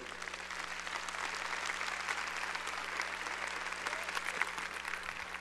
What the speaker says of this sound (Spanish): Démosle un aplauso a todas las Rebecas que hay aquí.